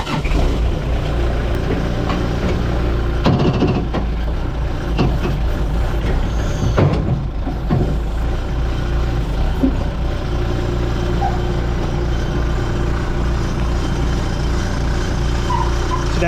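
A flatbed truck's engine runs through a short ride as a loud, steady low rumble with rattles and occasional clunks, and a voice comes through faintly under the noise.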